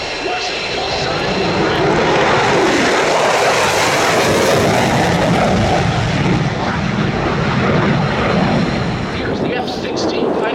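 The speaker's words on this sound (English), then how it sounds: "here's the F-16 Fighting Falcon of Thunderbird number 8." A US Air Force Thunderbirds F-16 Fighting Falcon, number 8, roars past at an airshow at Oshkosh, a loud sustained jet rumble that swells and holds steady across the pass, with crowd or commentary faint beneath.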